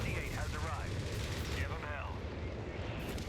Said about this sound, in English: there's artillery coming down